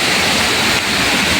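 A flooded hillside stream rushes in heavy monsoon rain. It makes a loud, steady roar of churning water, close and continuous, with no voices heard.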